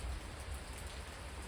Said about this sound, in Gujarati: વરસાદ તો અત્યારે ચાલુ થઈ ગયો